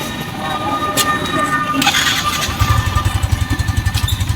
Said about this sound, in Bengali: দেখুন আগে বাইকের স্টার্ট করে আমি নিচ্ছি